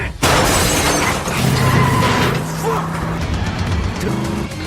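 In an action film's deadly car race, a shield smashes into a racing car with a loud crash. A dense roar of engines and crunching impact fills the whole stretch, with no voices.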